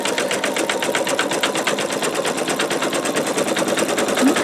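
An embroidery machine sews satin stitching on a quilt block in a magnetic hoop, a rapid, even mechanical rattle of needle strokes that continues close and steady throughout.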